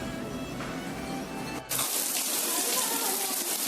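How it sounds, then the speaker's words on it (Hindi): Heavy monsoon rain pours steadily into a bucket outdoors, a loud continuous gushing splash that swells abruptly louder partway through. "इतनी बारिश पड़ रही है, पानी भी पूरी भर गई बाल्टी बारिश से"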